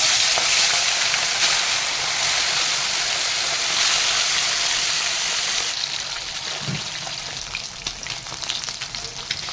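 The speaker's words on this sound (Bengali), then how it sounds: "তেল গরম হয়ে গেছে মাছগুলো ছেড়ে দেবে" Lailentika fish, salted and coated in turmeric, sizzling and crackling steadily as it fries in hot oil, close and loud, with a brief soft stir partway through and no talking.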